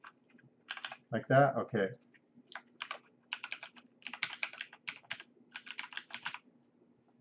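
Typing on a computer keyboard in an office setting comes as quiet, close bursts of rapid key clicks separated by short pauses, with a brief spoken exchange near the start.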